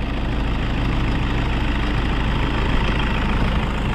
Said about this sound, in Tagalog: Bago matras, sobrang taas ng RPM.